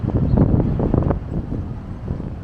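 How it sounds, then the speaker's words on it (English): Outdoor wind buffeting a microphone on a city sightseeing walk, a low rumbling roar that surges in gusts and then settles to a steadier, softer rush. "It's getting a bit windy."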